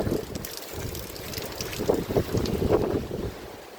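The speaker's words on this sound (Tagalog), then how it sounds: "Grabe, ang lakas ang hangin." Strong Super Typhoon Fung-wong wind in Luzon at night roars and buffets the microphone continuously, with heavier gusts surging in the middle.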